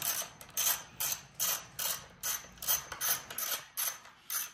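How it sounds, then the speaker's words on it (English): Screws are backed out of the cover of an ERIDE PRO SS electric bike with a ratcheting tool, a regular series of close, clicking ratchet bursts in a steady rhythm, with no talk. "So you're gonna take these two screws off here, just like that,"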